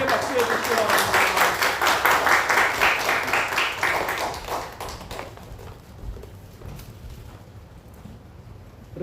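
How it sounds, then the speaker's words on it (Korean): A church congregation at a Sunday service gives loud, rhythmic applause that fades after about five seconds into quieter room sound and distant murmuring. "다시 한번 크게 박수해 주시기 바랍니다."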